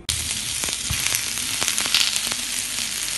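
Close, continuous sizzling and crackling of fried gola kebab on a hot sizzler plate, with a few soft clinks of a utensil, no voices.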